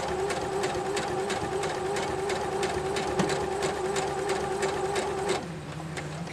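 Sewing machine quilting a quilt-as-you-go block under foot-pedal control: a steady, close mechanical hum with a rapid regular needle stitching rhythm that slows and stops near the end, no talk.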